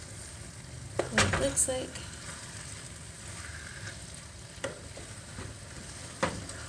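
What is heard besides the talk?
cauliflower Spanish rice frying and being stirred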